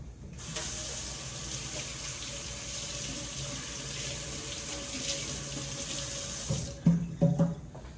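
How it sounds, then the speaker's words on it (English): A kitchen tap runs steadily as hands are washed during home cooking, with a constant close hiss of water that ends with a few louder splashes and knocks. "I gotta wash my hands."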